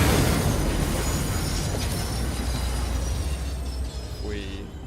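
A train rolls along the tracks in the video game Satisfactory, a loud steady rumble with metallic clatter and a rising squeal near the end, no voices.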